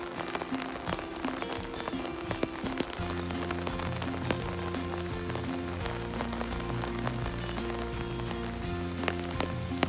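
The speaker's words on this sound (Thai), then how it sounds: "ช้านี้ก็เป็นวันที่ฝนตก" Steady rain pattering on a street in Geneva, a dense, even hiss of drops on pavement with sharper splashes close by, under a low hum of passing traffic.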